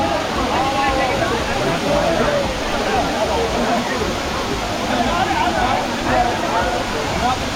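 Doodh Sagar waterfall roaring steadily in a constant rush of falling water, loud and close, with people's voices and babble mixed in underneath.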